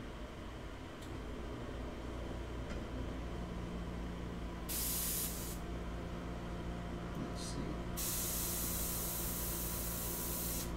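Airbrush being cleaned, its compressed-air spray hissing in two strong bursts against a steady low hum of background noise, with a few faint taps between.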